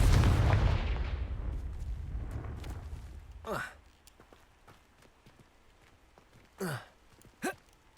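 A Confringo fire spell in Hogwarts Legacy goes off as a loud, crackling blast that decays over a few seconds, followed by sparse quieter thuds and short bursts.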